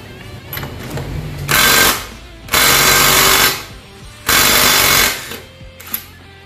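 A power tool loosens the rear wheel nuts on an Aerox V2 scooter in three loud, rattling bursts of one to one and a half seconds each, separated by quieter gaps, close up with no talk.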